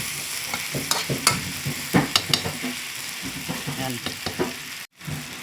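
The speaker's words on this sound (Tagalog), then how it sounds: "yun at ating halo haluin para kumalat yung paminta mga idol" A spoon stirs black pepper through chicken tinola in a pan, scraping and clinking in a steady run of strokes over a soft sizzle, with a brief dropout near the end.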